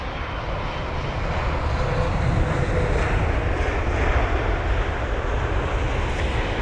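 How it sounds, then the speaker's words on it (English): A British Airways Boeing 777-200ER lands at London Heathrow after a flight from Cincinnati, its engines producing a loud, continuous broadband roar with rumbling lows, steady throughout the touchdown and rollout. "A very smooth touchdown there."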